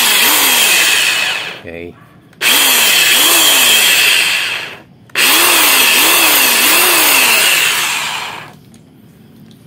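A repaired jigsaw with a stuck control switch, new carbon brushes and a fixed bearing runs on test in three loud bursts. Each buzzing whine is separated by a brief silence, and a voice speaks once during a pause.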